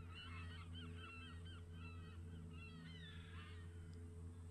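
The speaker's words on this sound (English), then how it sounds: "The gentle sounds of the soaring seagulls and the rolling waves" Seagulls call over a seaside bay while rolling waves wash steadily below. Several shrill cries come in quick clusters, fairly faint against the constant surf.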